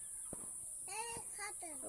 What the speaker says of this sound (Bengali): খাঁচায় খাঁচায় মুরগি